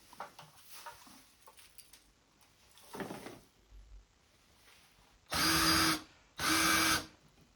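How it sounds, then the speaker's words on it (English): A power drill countersinks screw holes in wooden model railroad benchwork, two loud, whining bursts of about a second each near the end, after quieter handling knocks and one short earlier spin, close up and with no talking. "For all the screw holes, I countersink them."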